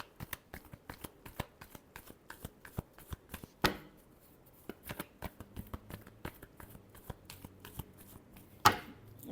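A deck of tarot cards is riffled and shuffled in rapid, crisp bursts of slaps and snaps, close and fairly quiet, with a couple of louder sharp cracks as the cards are bridged, and no talking.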